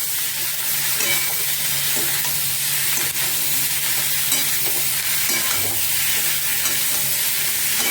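A ginger and spice mixture fries loudly in a pan, its dense hiss and sizzle steady throughout, with stirring scrapes and occasional clicks close by.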